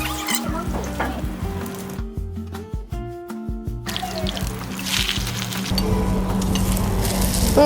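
Seaweed rolls fry in hot palm oil with a loud, steady sizzle and crackle, bubbling continuously throughout, joined by a clatter of stirring or utensil clinks partway through.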